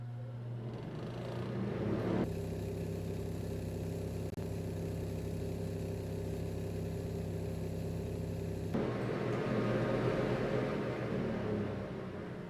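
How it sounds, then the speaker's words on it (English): An adjustable motor on a seed cleaning machine forces air through, a steady mechanical hum with a whining tone that switches on after a couple of seconds, runs evenly, then stops into softer blowing noise; fairly quiet. "use our adjustable motor to use various different speeds to force air through at various different velocities."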